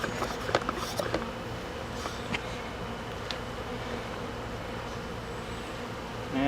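Honey bees buzzing steadily at a weak hive during cleaning, a dense continuous drone close by with a few faint knocks and creaks.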